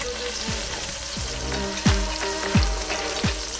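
Pork loin sears in hot fat in a pan, giving a steady close sizzle and crackle with a few sharper spits and pops scattered through.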